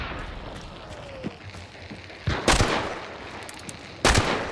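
Gunshots ring out in a shooter video game, with a couple of sharp, loud bursts standing out against a low background rumble.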